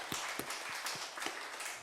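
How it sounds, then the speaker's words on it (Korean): A church congregation at a Seoul Sunday service gives a church member a welcoming round of applause: faint, soft, steady clapping from a small group, heard at a distance. "강현희 집사님 오셨는데 박수로 환영하겠습니다"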